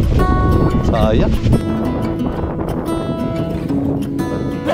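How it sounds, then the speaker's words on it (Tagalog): Strong wind on Mount Baliis in Marinduque, Philippines, roaring steadily as loud, rumbling gusts buffet the microphone, with people talking underneath. "medyo malakas yung hangin dito sa may Mount Baliis"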